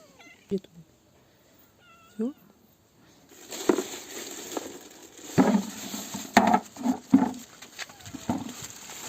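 Markiz, a pet cat waiting to be fed fish, gives two short meows close by, followed by a stretch of rustling and handling noises as fish is poured out.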